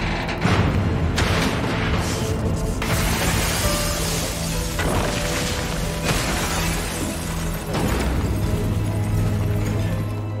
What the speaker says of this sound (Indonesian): gedung itu pun meledak lalu menghantam gedung stasiun televisi tempatnya melakukan siaran